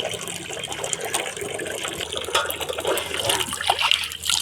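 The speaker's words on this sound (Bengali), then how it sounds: "এবার মাছগুলো ধুয়ে নিই" Running water splashes and trickles as fish are rinsed in a village home, a close, continuous wash of flowing water that swells and shifts slightly toward the end.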